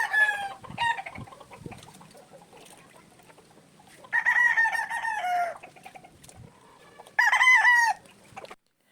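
Roosters and stags crow loudly in several bursts, with hens clucking steadily in between and no talking.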